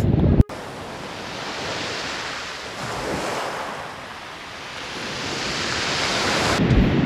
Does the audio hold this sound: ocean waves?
yes